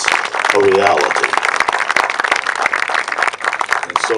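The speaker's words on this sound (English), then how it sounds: "Give all those leaders a big round of applause for what they did to make this a reality." A large outdoor audience claps steadily in sustained applause for a park dedication, a dense crackle of hands, with a voice heard briefly near the start.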